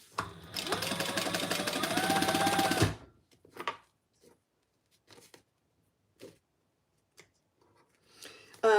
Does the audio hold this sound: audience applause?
no